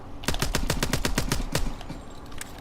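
Atlas 45 pistol in Call of Duty Advanced Warfare fired in a fast, steady string of about a dozen sharp shots, each crisp and close, then a few spaced trailing shots.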